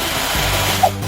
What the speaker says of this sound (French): Ce n'est pas grave. J'ai une perceuse.